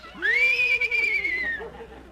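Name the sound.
horse neighing sound effect in radio comedy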